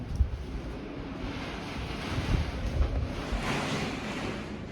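Strong gusting wind roars through an intense thunderstorm outside an apartment, a loud, steady broadband rush that swells in surges, with no voices.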